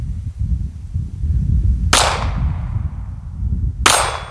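Two sharp rifle shots at an outdoor shooting range in Montana, spaced about two seconds apart, each with a crisp crack and a long fading echo over a low rumbling background.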